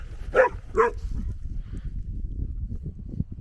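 A dog at a wild camp lets out two sharp barks close together at a fair distance, followed by low rumbling wind and outdoor noise.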